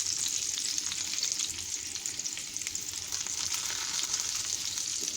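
Bitter gourd pieces fry in a pan with a steady, bright, continuous sizzle, close and even throughout, with faint stirring movement and no talk.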